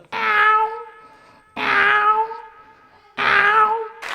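A human voice imitates a cat with three drawn-out, tonal meows at an even pace, each about a second long. They are close and clear, with a short silence between them.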